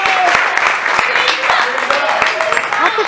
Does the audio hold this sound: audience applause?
yes